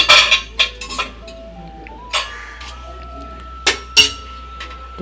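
Kitchen utensils clatter and clink as someone rummages for a spatula beside a pan heating for besan-coated onion frying: a few sharp metallic knocks spread irregularly across a few seconds, close and moderately loud, with quiet pauses between.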